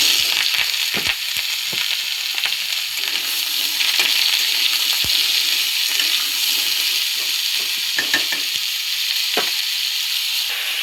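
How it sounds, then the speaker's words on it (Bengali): Potatoes frying in a pan in a home kitchen give off a loud, steady hiss of sizzling oil throughout, broken by occasional scraping and clinking knocks from stirring. "আলুটা ভালো করে ভাজা ভাজা করে নিচ্ছি"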